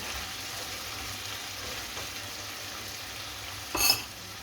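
Low, steady sizzling of tomato paste frying in a pan, with a brief louder scrape of stirring near the end.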